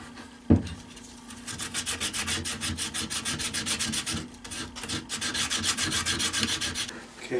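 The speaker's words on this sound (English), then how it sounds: "Okay, pretty much finished sanding." Close-up hand sanding of wood: quick rhythmic back-and-forth scratchy strokes after an opening knock, with a short pause midway.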